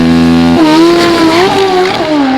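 Chip Ellis's former Steve Rice Pro Stock drag bike launching hard at a 2002 AMA Prostar drag race, its engine held at a steady high rev then snapping into a loud rising wail as the rear tyre smokes, close and dominant with no talk.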